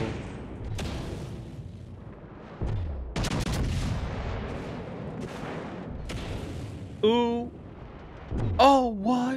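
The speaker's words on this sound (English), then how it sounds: "That was actually, I think, one of the best looking salvos we've seen." Battleship main guns firing a salvo in World of Warships, aboard the Minnesota, heavy booms and sustained rumbling with game sound effects while a person talks over it.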